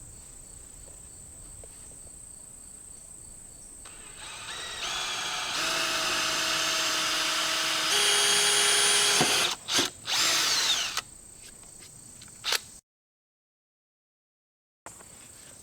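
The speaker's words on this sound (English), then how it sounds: "now I'm ready to go ahead and drill the pilot holes" A power drill bores pilot holes into wood for a beehive stand, whirring up to a loud sustained grind, then cutting off in a few short bursts and stopping, with outdoor insect chirping and quiet ambience before and around it.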